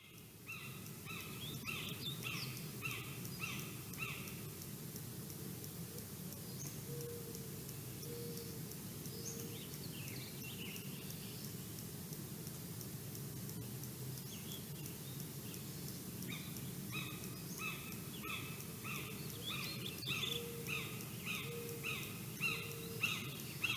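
Birds sing in a recorded nature soundscape, repeated chirping phrases coming and going at a moderate distance over a steady hiss of insects and ambient noise.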